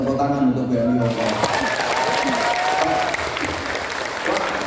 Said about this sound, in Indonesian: Tepuk tangan untuk BNI Hongkong.